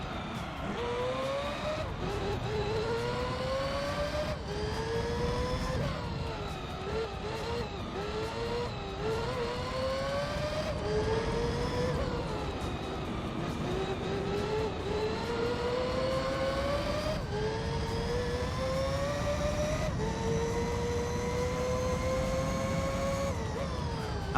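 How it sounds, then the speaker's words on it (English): Race cars in the Gran Turismo 3 video game drone continuously with rising engine pitch sweeps as cars shift and pass, the engine tones loud and steady throughout with no talk. "when the cars go past the opposite direction, when you're close enough, you can still hear them"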